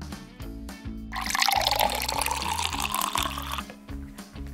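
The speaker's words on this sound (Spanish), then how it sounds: "Ahora echamos el almíbar" Syrup poured into chocolate cake batter in a kitchen, a steady liquid pour lasting a few seconds over a backdrop of bouncy background music.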